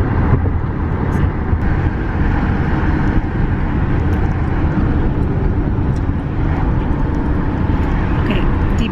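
Inside a moving Lyft car, a steady low road and engine rumble fills the cabin, constant and fairly loud with no pauses and nobody talking.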